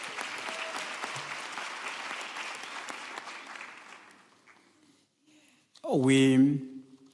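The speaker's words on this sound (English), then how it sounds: "So please give them a round of applause." Applause from a university graduation ceremony audience fills the hall steadily for several seconds, then dies away, followed by a brief amplified voice close to the microphone.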